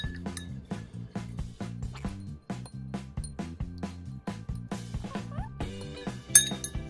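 Stirring a pumpkin science-experiment mixture in a container makes repeated clinking taps, a steady rhythm of utensil strikes against the vessel, close and clear with no talking.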